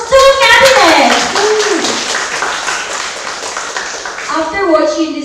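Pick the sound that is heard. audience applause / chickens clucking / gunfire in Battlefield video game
audience applause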